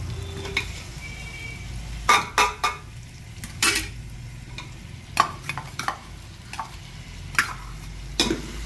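Yogurt stirred into a veg pulao mixture in a pan, with a low, steady sizzle broken by sharp clinks and scrapes of a spoon against the metal pan, several irregular knocks close by.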